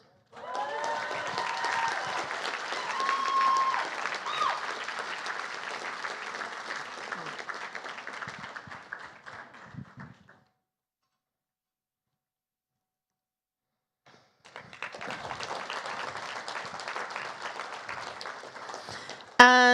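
Audience at an awards gala applauds loudly for several seconds, a dense wash of many hands clapping, then falls silent before a second round of clapping starts up again.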